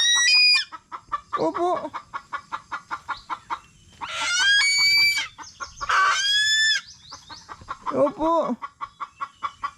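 Hungry chickens cluck and squawk loudly and close by in a steady run of calls, with a couple of longer crowing-like cries, while a person briefly speaks.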